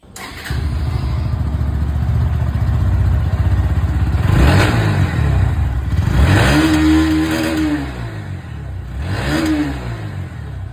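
A motorcycle idles with a deep, throaty exhaust rumble, punctuated by three sharp throttle revs that rise and fall, loud and close.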